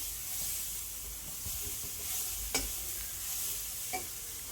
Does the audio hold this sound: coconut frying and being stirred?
yes